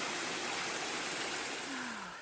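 A mountain stream flowing beside a hiking trail on the Appalachian Trail, a steady, loud, close rushing wash of water with no pauses.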